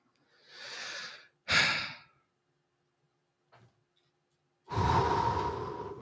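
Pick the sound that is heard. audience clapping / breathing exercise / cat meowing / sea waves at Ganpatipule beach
breathing exercise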